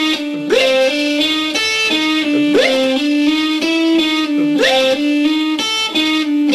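A distorted electric guitar plays short repeated notes in a steady, even pulse, mimicking the tick of a metronome, in a hybrid picking lesson. It's loud and close, with no talking.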